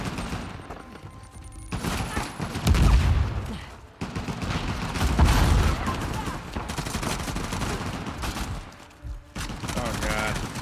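Gunfire in Uncharted: The Lost Legacy: repeated shots and bursts with a couple of heavier booming hits, mixed with talking voices throughout.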